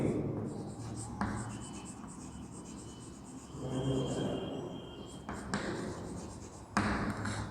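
Marker or chalk writing the term pulmonary vein on a classroom board, a steady close scratching and rubbing with short pauses between strokes, under low room noise.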